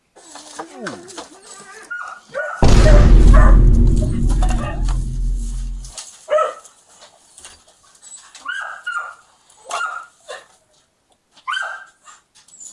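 Several dogs in a house bark and yelp repeatedly in short sharp bursts, close and loud, while people talk, with a loud mechanical roar briefly covering part of the scene.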